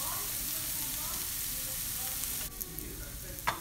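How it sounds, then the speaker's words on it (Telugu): Sliced onions frying with salt in a pan for a capsicum curry, a steady close sizzle throughout with a few light clinks of stirring toward the end. "రుచికి సరిపడా ఉప్పు వేసి ఉల్లిపాయలని వేగనివ్వాలి."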